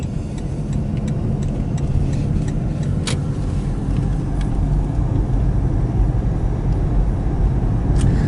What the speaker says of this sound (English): And the traffic is horrible.